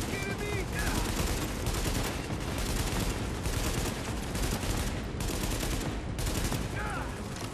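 Heavy, continuous automatic gunfire in the co-op shooter game Tom Clancy's The Division, loud and nearly unbroken rapid shots layered from several weapons throughout, with faint talk mixed in.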